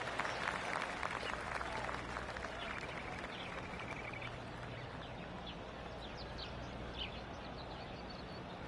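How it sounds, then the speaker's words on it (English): Polite golf claps from a crowd around a course in the video game PGA 2K25, a soft steady patter of scattered applause, moderately distant, with faint bird chirps in the background. "I can hear the golf claps around the course"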